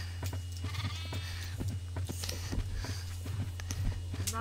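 Farm animals in the blocky game Minecraft, with repeated short bleating and mooing calls over a constant low hum, mixed with light footstep-like taps, and no voices.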